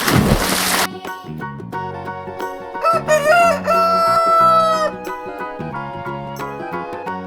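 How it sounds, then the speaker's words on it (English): A toy rooster's cock-a-doodle-doo crow plays within a children's song, with music and tones carrying on throughout the clip. "Rooster."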